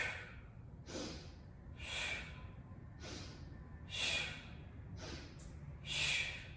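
Strong, breathy exhales during a yoga core workout, about six forceful puffs spaced roughly a second apart, close and fairly loud with no talking.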